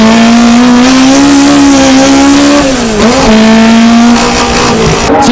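Toyota AE86 Hachiroku race car running without a GT wing, engine droning loud and steady with a brief pitch dip and recovery midway as it slides its rear tires, a faint tire squeal overhead; close, continuous, no talk.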